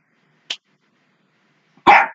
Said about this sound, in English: Hey, you bark at me.